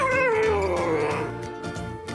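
A cat gives one drawn-out meow that slides downward in pitch, close and loud, fading into low background noise.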